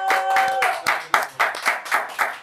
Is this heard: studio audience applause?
yes